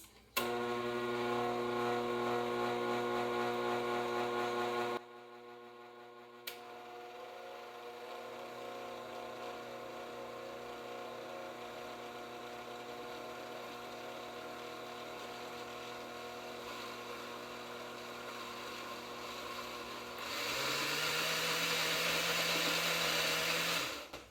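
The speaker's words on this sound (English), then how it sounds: "I had it on the low setting on the blender at first, and I bumped it up to the high setting" A blender pureeing dandelion green pesto whirs with a steady motorized drone on low, pauses briefly, then runs on and finally ramps up to a louder, higher-pitched high setting.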